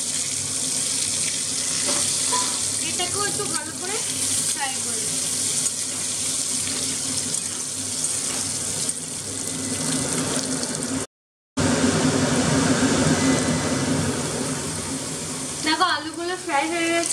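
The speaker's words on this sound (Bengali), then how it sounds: "এই তেলটার মধ্যে দিয়ে দেবো সিদ্ধ করা আলু।" Boiled potatoes sizzle and fry steadily in hot oil in a home kitchen while cooking for biryani. The hiss is loud and continuous, broken once by a brief silence, with occasional stirring and clatter.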